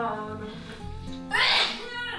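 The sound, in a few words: sneeze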